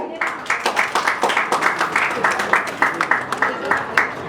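An audience at a Telangana awards ceremony claps in welcome as a strongwoman powerlifter comes up on stage, a loud steady run of applause with fast rhythmic claps close by.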